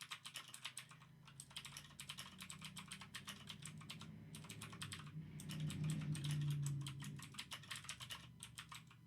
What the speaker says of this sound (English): I need to get faster at typing